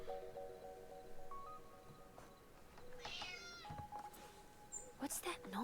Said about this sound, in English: Oh, it must be Nora's cat.